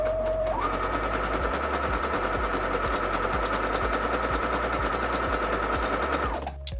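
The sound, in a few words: sewing machine stitching a zigzag stitch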